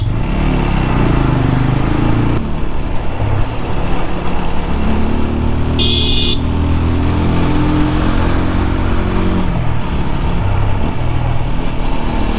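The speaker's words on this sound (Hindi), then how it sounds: "आज होगा extreme of road with Apache RTR 200" A TVS Apache RTR 200 4V motorcycle ridden off-road on hill trails near Dharamshala, its engine a loud, continuous rough drone mixed with heavy wind rush, steady throughout with no talking.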